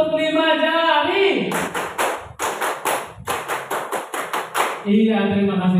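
Five-finger clapping, a full-hand clap, at a primary school gathering: a brisk run of about ten loud, close, evenly spaced claps between stretches of speech.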